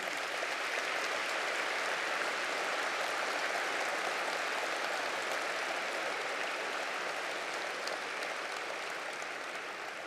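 Faint, even applause from a large audience at a Slovenian Armed Forces Day ceremony, a steady distant hiss of clapping holding for about ten seconds.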